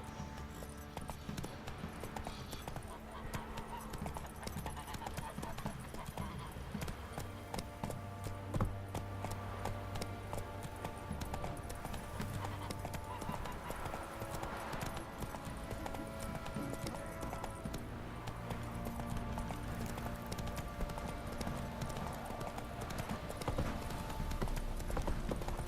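The horse Roach trotting in The Witcher 3, with a steady rhythmic clip-clop of hooves running throughout under a continuous game music bed, moderately close.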